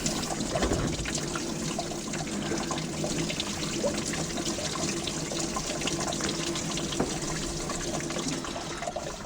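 Steady running water trickles and splashes continuously out of a hose from the engine block of a 1976 Mercruiser 120hp boat engine, fairly close, with no voices over it.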